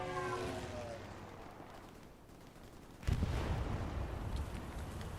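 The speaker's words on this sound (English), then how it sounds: "Precision strike going down." Precision strike bombardment in the WWII shooter Hell Let Loose at Elsenborn Ridge: a sudden heavy blast arrives midway, followed by a sustained rumbling roar of explosions and debris, after a quieter stretch of distant battle noise.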